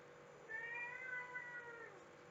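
A house cat lets out a single drawn-out, wavering meow, faint and somewhat distant, in an otherwise quiet room.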